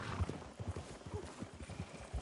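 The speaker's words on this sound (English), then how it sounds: "Wow, fine horse there." Horse hooves clip-clopping in a steady rhythm in Red Dead Redemption 2, close and fairly loud, with a faint whinny-like sound and no speech over it.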